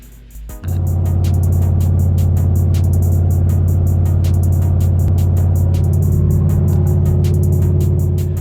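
Car with a Tremec TKX transmission running hard on a dyno, a loud sustained engine drone rising in after a brief start and holding steady with rhythmic ticking clatter throughout.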